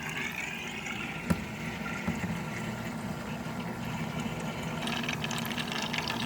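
A Liberty 13-liter fruit and vegetable purifier runs mid-cycle with plain water and its cover up, giving a steady, fairly loud churning of circulating water with a pump hum and a brief click.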